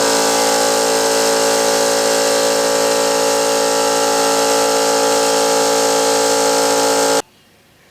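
A newly bought air compressor runs steadily and loudly for about seven seconds with a constant motor and pump drone, then shuts off abruptly, leaving near silence.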